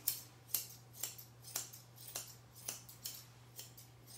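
Grooming scissors snip steadily through a Kerry Blue Terrier's coat, about two crisp, close cuts per second in an even rhythm over a low steady hum, with no talking.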